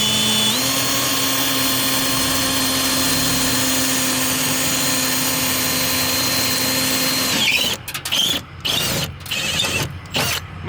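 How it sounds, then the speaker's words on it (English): A hammer drill whines steadily at high speed for several seconds, then stutters and cuts in and out as it breaks through a metal rivet on a 1999 Ford F150 door. "I got through the rivet, but it's not coming out yet."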